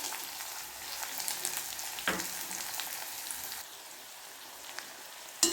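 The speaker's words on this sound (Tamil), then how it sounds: "சோம்பு பொரிஞ்சதும் அதில் பொடியாக கட் பண்ணி வச்சுருக்க வெங்காயத்தை போட்டுக்கணும்." Finely chopped onions frying in oil with fennel seeds for a stuffed chapati filling, a continuous crackling sizzle with scattered pops and a sharp spatter, settling to a softer hiss toward the end.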